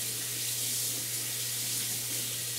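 Tap water runs steadily into a kitchen sink while a pot is rinsed, a continuous close, loud hissing rush with no talk over it.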